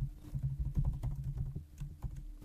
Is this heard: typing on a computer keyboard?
yes